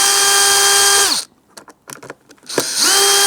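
Power drill spinning screws out of a pressure washer casing, two whirring bursts of the motor winding up and down, separated by a short gap with light clicks and handling noise, close and loud, with no talk.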